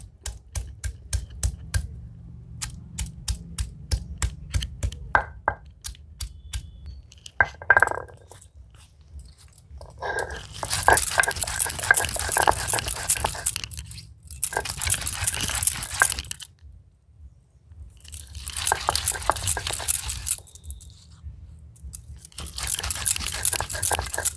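Small crab pieces, including the little claws, are pounded before grinding. The result is a run of rapid close crunching taps, then bursts of gritty crushing and scraping with short quiet gaps between them.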